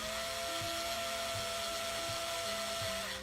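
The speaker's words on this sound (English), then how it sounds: "And start drilling them back in." A power drill drives screws back into the foam foot pad of a Ninebot Mini, its steady motor whine holding close and loud, with a few brief low bumps as it bites.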